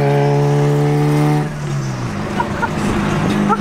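A Mitsubishi Evo with a big turbo on a base tune idles high with a strong droning note, then the revs drop and the engine settles into a rougher, burbling idle with small pops, loud and close.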